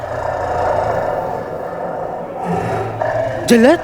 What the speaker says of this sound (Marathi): वाघाची डरकलची रिंगटोन लावली होती